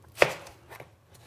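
A single sharp knife chop cuts coarsely through vegetables for a venison goulash, one loud close strike followed by a couple of fainter taps, with no talking.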